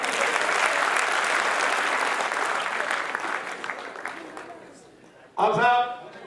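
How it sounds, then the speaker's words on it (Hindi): An audience at a Jat assembly in Hisar breaks into loud, sustained applause that gradually fades away, and a voice cuts in at the end. "एक बार जोरदार ताली बजा।"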